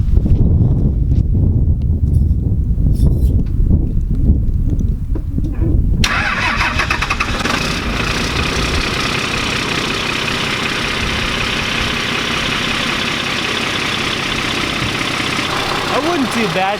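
A straight-piped 12 valve Cummins diesel truck with a 5 inch exhaust cold starts after several seconds of cranking, then bursts into a loud, rough, rattling idle that holds steady and close.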